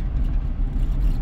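Vehicle rolling along an extremely rocky, bumpy road, a steady low rumble of engine and tyres with uneven jolts, close and continuous, no talk.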